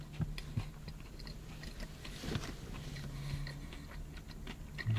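Crisp crunching bites and chewing close to the mic on a KFC Spicy Big Crunch Stacker fried chicken sandwich, a few sharp crunches over quiet background.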